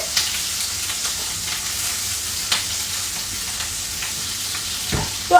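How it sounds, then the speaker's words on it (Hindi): Coarsely diced onions frying in a pan, a steady close sizzle with occasional stirring scrapes and taps. "तो अब इसमें मैं प्याज डाल रही हूँ"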